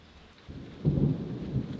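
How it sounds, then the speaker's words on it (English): Rain falls steadily outside a cabin, and a low rumble of thunder swells in partway through and rolls on beneath the patter. "It's raining."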